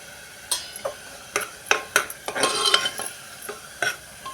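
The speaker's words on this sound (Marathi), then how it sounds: "टोमॅटो पण आपण चांगला जळेपर्यंत एकसारखा परतत राहायचा आहे" A spoon stirs tomatoes with turmeric in a cooking pan, clinking and scraping in short, irregular strokes over several seconds, with no voices.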